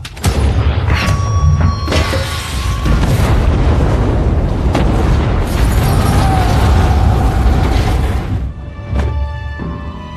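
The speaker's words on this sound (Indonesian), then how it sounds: "memicu ledakan pada tabung gas yang telah dipasang Kozlow sebelumnya" A large gas cylinder blows up in a room in a film scene, giving a loud, sustained explosive roar that starts with a booming burst and rumbles on with debris for several seconds before it settles.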